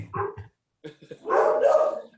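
A dog barks during a conversation, with a couple of short yips followed by a longer, louder bark-whine, nearby, alongside brief human voices.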